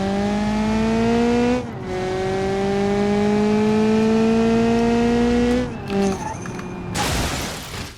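Engine of a car in BeamNG.drive revving at high, steady pitch, then cutting off with a brief clatter and a sudden noisy smash near the end, followed by a short burst of crunching impact noise.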